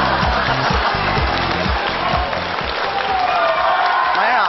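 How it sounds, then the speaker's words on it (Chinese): A studio audience at a comedy talk show applauds a guest's entrance: dense, steady clapping that holds throughout, layered over a rhythmic thumping beat. "让我们掌声有请马先生"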